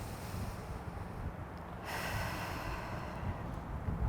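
Deep test breaths drawn in and pushed out during a running breathing exercise, close and breathy, with a sharper intake near the middle and no talking.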